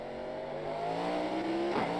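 Race car engine in a Suzuka racing video game, a steady high-pitched drone that climbs in pitch as the throttle opens, with a brief dip and shift near the end, loud and continuous with no talk.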